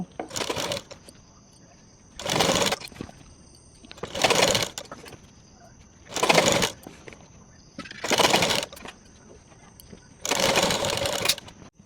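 A sewing machine stitching the seam of a kaftan nighty, running in six rapid whirring bursts of a second or so each, separated by short pauses, close and clear.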